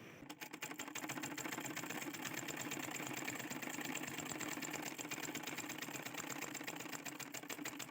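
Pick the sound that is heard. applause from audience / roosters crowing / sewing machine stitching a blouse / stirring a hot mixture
sewing machine stitching a blouse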